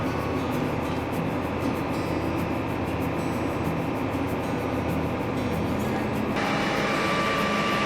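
A John Deere ExactApply sprayer blows air through its opened valves to purge the system, producing a steady, loud broadband rushing hiss over a running engine that lasts throughout and shifts slightly in tone near the end.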